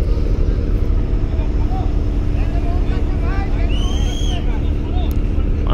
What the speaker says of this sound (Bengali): দিয়ে আসলে লঞ্চের গতি কমাচ্ছে যেন পানির সাথে ধাক্কা না লাগে। এই লঞ্চটিও ব্যাক গিয়ার দিল